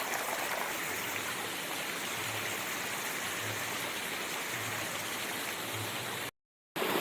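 Water runs steadily from a stone basin high on a mountain in the rain, a constant hissing, splashing flow heard close with no voices, broken by a brief dropout near the end.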